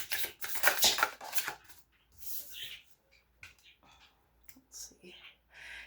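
A deck of tarot cards is shuffled in several quick riffling bursts, crisp and close, followed by softer card handling and light movements.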